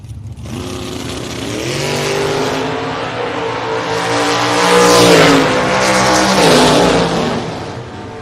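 Drag race cars launch side by side, a Chevrolet Cavalier against a topless Camaro, engines roaring loud and close with rising revving harmonics that swell and peak mid-run before easing off.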